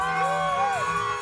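Rowdy crowd cheering and whooping in a Melbourne street party on Chapel Street, with cars and utes around; loud, dense voices with a rising-falling whistle or whoop over steady hubbub, brief and close.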